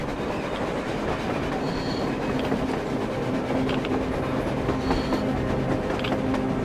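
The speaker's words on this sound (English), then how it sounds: "A train! A damn train on the surface!" A train rolls past on the surface in the game Metro Exodus, a steady loud rumble with rhythmic clickety-clack of wheels and faint squeals, filling the whole scene without talk.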